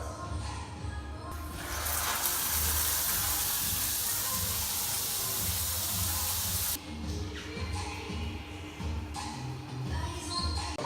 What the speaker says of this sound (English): It's a gold shower.